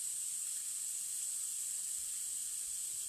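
Water poured off a pan of steamed potatoes on a stove, giving a steady, bright hissing rush that stays even and close throughout, with no voices.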